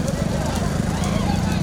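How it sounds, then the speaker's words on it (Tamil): Bulls pull carts at speed in a bullock cart race, a loud, continuous rumble of hooves and rolling wheels that surges past close by, with commentary running over it. "மாடு போயிருச்சு மைக்கு வண்டிக்கு முன்னாடி"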